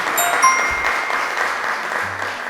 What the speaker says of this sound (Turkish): Alkışlıyoruz arkadaşlarımızı.